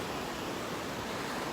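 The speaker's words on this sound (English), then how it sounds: "the crashing waves" Ocean waves crash on the shore in a steady, full roar of surf, loud and unbroken, with no voices.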